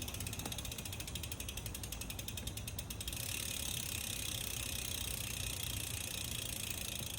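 A bicycle wheel spins freely while its freehub ratchet clicks in a rapid, even stream, close and fairly quiet, slowing slightly toward the end.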